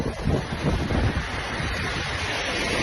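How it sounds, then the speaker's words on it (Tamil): Rough sea waves surge and crash against the shore near Pamban bridge during a cyclone, a loud continuous churning roar with strong wind buffeting the microphone. "அலைகள் வந்து அடிக்க காட்சியை பாருங்க"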